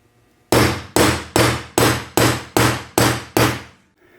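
Eight sharp hammer blows strike a hardened Hurst shifter bushing in quick, even succession, each a loud metallic bang with a short ringing decay.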